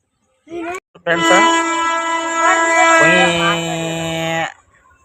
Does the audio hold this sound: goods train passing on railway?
yes